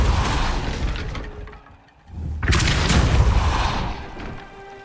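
A Depulso spell blast in Hogwarts Legacy: a deep booming impact with shattering debris, fading to near quiet before a second heavy crashing burst rolls out and decays.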